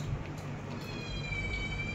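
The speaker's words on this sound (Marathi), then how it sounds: "मांजराला पण भूक लागली" A hungry cat meows faintly and steadily in a quiet home at mealtime, alone with no talk.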